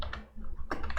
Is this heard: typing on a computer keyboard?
yes